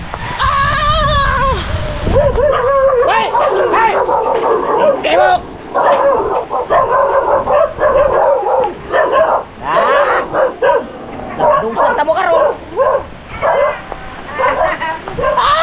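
A dog barks and yips repeatedly close by, with whimpering between barks, while people shout and talk in Filipino over it.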